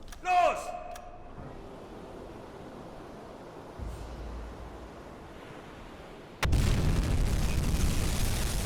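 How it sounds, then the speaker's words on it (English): Torpedo explosion striking a destroyer in the submarine game UBOAT: a short deep burst near the start, then a low rumbling wash like surf, before a loud broadband roar swells in near the end. "So we got another hit on that destroyer."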